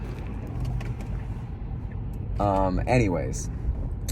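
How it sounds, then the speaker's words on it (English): Road traffic in New Jersey, a low, steady rumble of cars and engines with a pass or two, heard under someone talking nearby. "See, that's traffic in New Jersey, dude."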